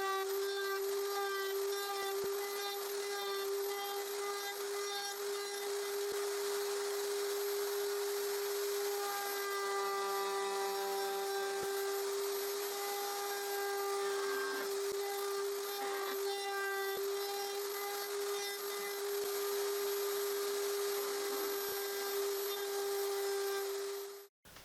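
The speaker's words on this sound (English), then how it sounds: "I will use this round over router bit to round the inside edges and the outside edges all around the hoop" A round over router bit rounds the edges of a wooden hoop for a choker, a steady high-pitched motor whine running continuously at close range and alone, with slight shifts in tone as the wood is fed.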